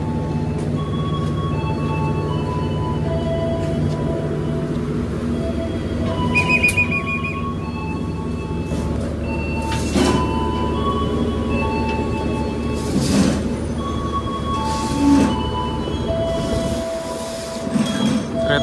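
The Gaya Baru Malam Selatan train departs a station after a brief stop, rumbling steadily with occasional metallic wheel squeals and a brief high tone, loud and close, the noise shifting as it rolls.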